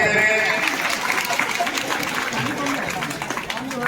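An audience at a lively stage event claps, a dense continuous wash of applause sitting beneath a loud voice talking over it throughout.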